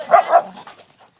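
A dog named Ghost gives two quick, close barks in succession, followed by a brief, fading whine, with no voices over it.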